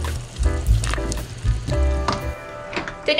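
String beans and radish dropped into a pot of boiling sinigang fish soup, with soft splashes, bubbling and sizzling, a few clinks of utensils, close and fairly quiet.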